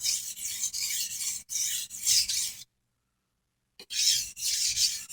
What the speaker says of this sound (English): I'm going to remove that burr.